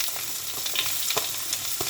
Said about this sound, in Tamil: முதல்ல இந்த வெங்காயத்தை கொஞ்சம் நல்லா வதக்கிக்கலாம்